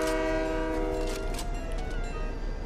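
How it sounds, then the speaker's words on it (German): A train pulls in within the video game Fortnite, sounding a loud, sustained multi-tone horn over rumbling wheels and rail noise that continue steadily throughout. "Der Zug ist da! Hurra, hurra, der Zug ist da."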